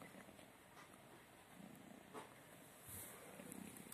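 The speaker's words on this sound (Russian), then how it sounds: "Ты мурчишь там в мешочке?" A cat purrs softly from inside a yellow bag, a low steady rumble that stays faint and close, with light rustling of the bag now and then, over quiet Russian speech.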